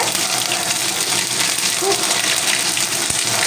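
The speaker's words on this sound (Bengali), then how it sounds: "তেলের মধ্যে চটপট করে ফুটতে থাকে" Ginger paste spluttering and crackling in hot oil in a pan for a vegetarian mixed vegetable dish, a steady close hiss of sputtering throughout.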